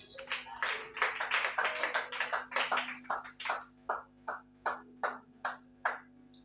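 A church congregation claps together in praise of Jesus during a worship service, first in a dense flurry of hands, then in slower, evenly spaced unison claps with a steady organ-like tone beneath.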